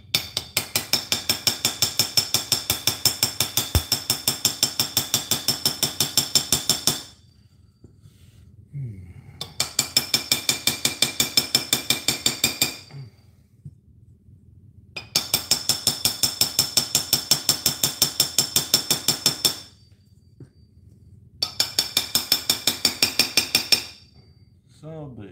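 Rapid, evenly spaced metallic strikes come in several long bursts separated by short pauses as parts are hammered out of a Dellorto DHLA48 carburettor on the workbench, loud and close.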